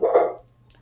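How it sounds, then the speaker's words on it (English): A single short dog bark, close and fairly loud, fading quickly into near silence, with a faint clipped sound trailing after. "That's my dog bark."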